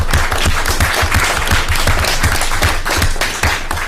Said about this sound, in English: we maybe give them a round of applause